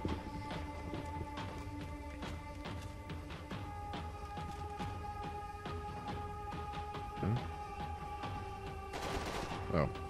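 Gunfire in the video game Max Payne 3, a steady stream of rapid shots in bursts with a couple of louder blasts near the end, under continuous game sound.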